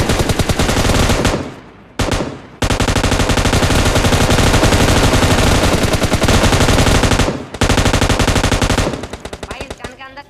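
Rapid automatic gunfire from a shooting video game roars in long, loud sustained bursts, broken by a few brief pauses between strings of shots.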